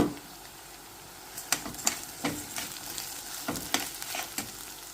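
Bulgur frying with tomato paste in a pan, a steady close sizzle broken by repeated sharp scraping and stirring clatters from a utensil against the pan.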